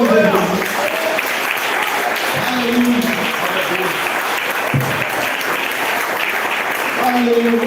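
A church congregation applauding during worship, loud sustained clapping from many people filling the room, while a voice keeps speaking over the clapping.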